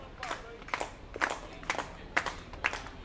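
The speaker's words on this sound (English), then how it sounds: "The slow clap slowly starting out here at Canton." A crowd at a Canton baseball game beginning a slow clap, with six or seven spaced, sharp claps in a steady rhythm over quiet ballpark ambience.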